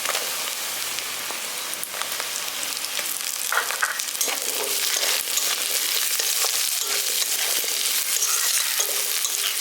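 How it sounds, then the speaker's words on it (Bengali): Small diced potatoes for a village-style spinach and potato curry fry in hot oil, giving a loud, continuous crackling sizzle from start to finish with no talk. "আর এবার আলুটাকেও ভাজা ভাজা করে নিচ্ছি।"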